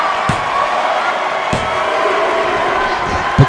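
At a Legacy World Wrestling show in Columbus, a wrestler hits the mat with a suplex. Two sharp thuds ring out over a steady roar of crowd noise in an indoor arena.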